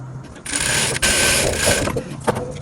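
A sewing machine stitches a dress seam, running as a loud, steady mechanical whir with a brief stop and restart, followed by a few softer clicks near the end.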